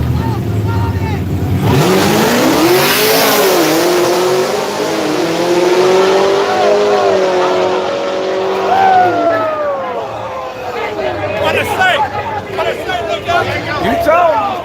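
Small-tire drag race cars at Yello Belly Dragstrip roar off the line and accelerate loudly down the strip, engines revving through rising gears with tire squeal, while a crowd and nearby voices talk over them.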